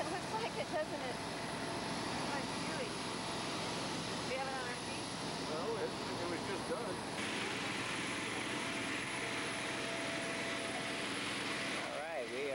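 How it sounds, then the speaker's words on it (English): A passenger airplane on a flight to Baltra in the Galapagos Islands drones with a steady, loud engine roar throughout, heard from inside with faint muffled voices underneath. "this is our plane"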